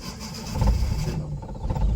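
Car engine cranking and catching during a driving lesson, a short low rumble that swells and settles into a steady idle.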